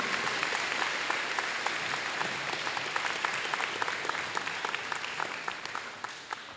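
An audience at a school scholarship event gives a round of steady applause, with many clapping hands blending into a dense, even patter that slowly fades toward the end.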